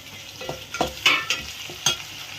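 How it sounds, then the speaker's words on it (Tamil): Onions and green tomatoes sauté for sambar. A spoon stirs and scrapes the pan in several soft strokes over a quiet, steady sizzle, close by and with no talking. "இப்போ வெங்காயம் தலை வதங்கினா போதும் இது கூட வந்து தக்காளி பச்சை சேர்த்துக்கலாம்"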